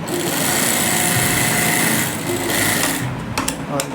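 A sewing machine stitches along the curved edge of a round neckline on fabric, running in a loud, steady whir for most of the stretch and then easing into a few short bursts near the end.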